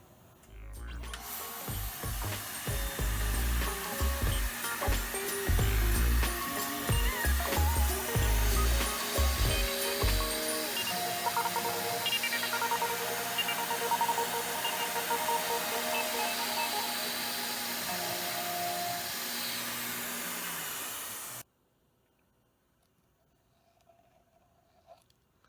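Machining cut on a tooling plate pallet in a shop, taken slightly slower on a finishing pass: a steady loud whirring grind with heavy low rumble early, running about twenty seconds before stopping abruptly into near silence.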